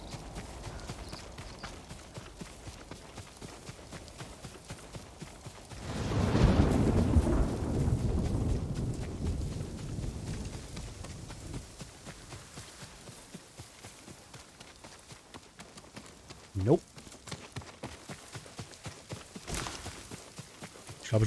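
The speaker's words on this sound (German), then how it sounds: "Ich habe so das Gefühl, das Gewitter ist nicht auf meiner Seite." In the video game Ghost of Tsushima, a low thunder rumble swells and slowly fades during a thunderstorm, with a sharp crack later. Steady hoof clip-clops from a walking horse continue faintly throughout.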